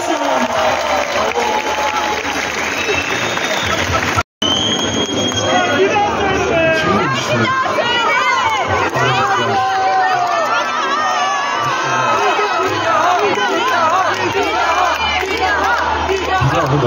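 A large crowd at an open-air rock concert in Istanbul claps and cheers loudly, with shouts and whistles rising over sustained applause and a brief cutout early on, continuing strongly to the end.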